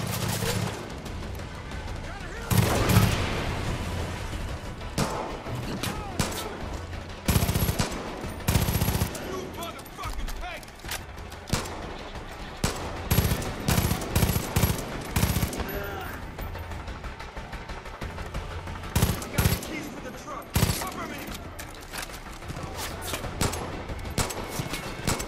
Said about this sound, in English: this is a serious machine gun